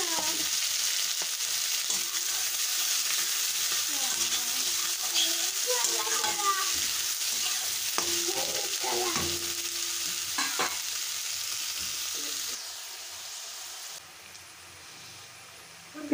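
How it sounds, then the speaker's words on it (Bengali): Chopped onion and green chili fry in a pan with a bright, steady sizzle, punctuated by scraping and stirring sounds and a faint voice, easing off toward the end. "পেঁয়াজ আর লঙ্কাটা ভালোভাবে ভেজে নেব।"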